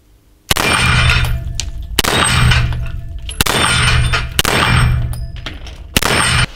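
A Beretta M92 Combat pistol fires during a shooting session, producing about five sharp, loud reports spaced roughly a second and a half apart, each followed by a ringing, metallic decay.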